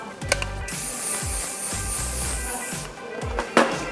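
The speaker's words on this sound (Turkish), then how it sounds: "saçın hacmini yükselterek üstüne hafif bir sprey sıkarak" Hairspray hissing onto hair while a low bun is styled at the nape, one sustained aerosol burst lasting a couple of seconds, close and fairly loud, with soft clicking handling noises around it.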